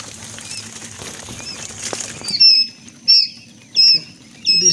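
Young quail chicks in a brooder on a Nigerian quail farm, a soft patter of movement and scratching, then several loud, bright peeps repeating in short bursts close by.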